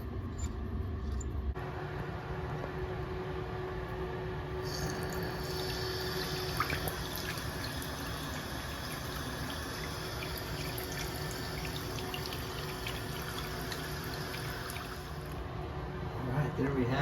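Water runs steadily from a newly installed YardMonet bathroom sink faucet, a continuous broadband rush lasting throughout, with brief clicks of handling and faint background movement.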